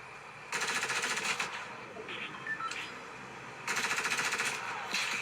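Rapid gunfire in a video game played on an iPhone with a PS4 controller comes in two loud sustained bursts, one near the start and one near the end, with quieter game sounds in between.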